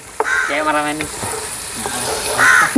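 Vegetable pulao ingredients fry in a hot pan with a steady, close sizzle and occasional stirring scrapes, while someone talks over it throughout.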